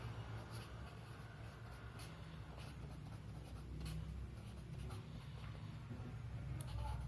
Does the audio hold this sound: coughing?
no